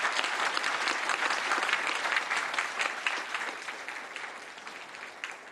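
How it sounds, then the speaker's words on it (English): An audience at a high-level conference claps for a panel, a dense, sustained round of applause that swells early and then gradually tapers off. "invite everybody to join me to give a warm, a big round of applause to the panel"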